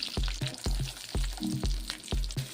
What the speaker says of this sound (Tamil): காய வச்சு எண்ணெய் ஊற்றிட்டேன், கடுகு போட்டாச்சு, கருவேப்பிலை.